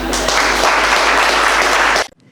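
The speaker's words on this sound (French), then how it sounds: "Et que tu l'acclames très fort." Loud, dense applause from a church congregation fills the space continuously for about two seconds, then cuts off abruptly into near silence.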